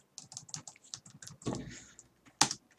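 Keys tapped on a computer keyboard in a quick run of light clicks, then a heavier clack, a brief pause and one sharp loud keystroke, all close up.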